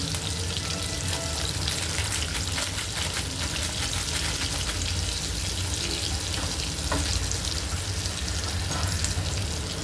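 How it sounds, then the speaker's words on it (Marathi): Ginger garlic paste and a little garlic powder sizzle and fry in a hot pan while cooking shepu (dill) bhaji, a dense, continuous crackling hiss that stays loud and even throughout, with no voices. "आता आपण म्हणजे अद्रक लसूणची पेस्ट ती टाकूया। थोडीशी गार्लिक पावडर पण टाकूया।"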